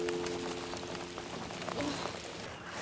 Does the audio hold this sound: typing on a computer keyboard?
no